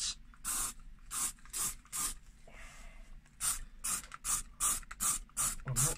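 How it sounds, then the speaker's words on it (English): Spray paint hisses onto a K11 car steering wheel in about a dozen short, close bursts with brief gaps, plus one softer, longer stretch of spraying midway. "try and spray it like so. It does mean I will catch my hand whilst spraying."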